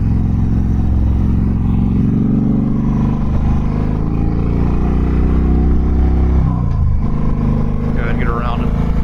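A Harley-Davidson Dyna Fat Bob 103 accelerates past a Chevrolet Tahoe on the road, its engine note climbing over heavy wind rush, with a voice talking over it.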